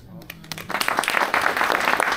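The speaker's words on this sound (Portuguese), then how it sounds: "uma salva de palmas, Manuel Matias." An audience at the Liberty Forum 2024 bursts into applause after a speech, the clapping swelling quickly from scattered claps into dense, sustained crackle while a voice speaks over it.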